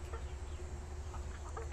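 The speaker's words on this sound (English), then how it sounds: "These chickens right here, these are Cornish cross chickens." Cornish Cross meat chickens cluck softly and intermittently in a group, a low murmur of short calls over steady farmyard background noise.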